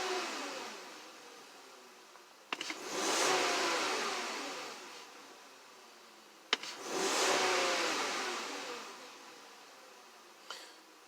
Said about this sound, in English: I'm just going to do a couple snap throttle and see how it responds.